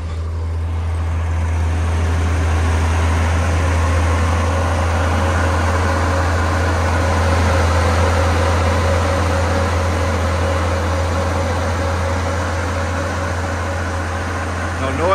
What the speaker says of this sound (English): Nice running six-cylinder engine.